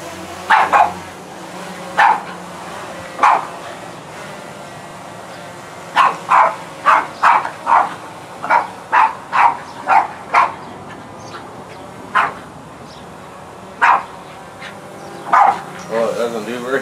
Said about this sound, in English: where's that dog at?